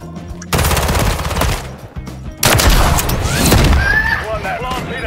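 Rapid gunfire from the Victus XMR in the video game MW3 comes in two loud, dense bursts of fast shots, the second longer, with a voice talking over the action.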